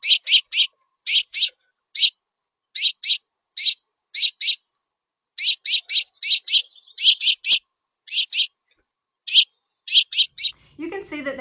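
Small birds chirp and squabble at a backyard bird feeder, a steady run of quick, loud paired chirps with brief gaps, ending in a short soft rustle.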